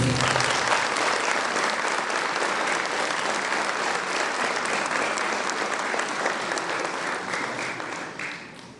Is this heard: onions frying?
no